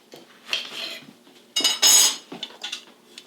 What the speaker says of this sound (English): I can cut it now and use it for our juice step.